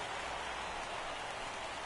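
Steady rain falling in the baseball video game MLB The Show 17, a constant even hiss of drops with no break, moderately loud and alone.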